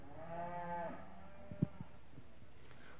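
Cattle at an Angus, Limousin and Gelbvieh breed show give one long, drawn-out moo in the first second, followed by a short sharp knock and faint background noise.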